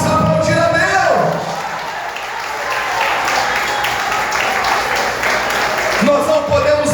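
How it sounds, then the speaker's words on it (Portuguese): A church congregation applauds during a Portuguese-language sermon, a dense wash of clapping that swells, dips briefly, then continues, with the preacher's voice heard before and after the applause. "Vamos aplaudir a Deus."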